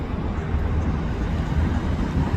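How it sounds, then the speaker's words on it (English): Steady low rumbling drone of a police helicopter circling overhead a neighborhood, continuous and fairly even in level, with no voices. "There's this chopper keep flying the last hour, just flying around here."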